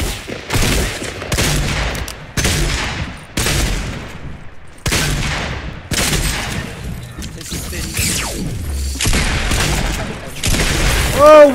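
Repeated loud gunshot bursts in a Fortnite Battle Royale firefight, sharp cracks and booms arriving in quick clusters every second or so, close and dominant, with a few rising whistles near the end.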